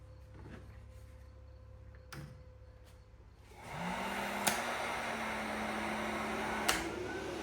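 After a few clicks and a quiet hum, a heat gun and a coffee maker running on a power inverter start up in a loud blowing roar that holds steady, with a low droning tone and occasional sharp ticks.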